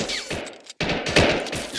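Covering gunfire in a video game, dense overlapping shots and rattling bursts, loud and close, broken by one very short silent gap.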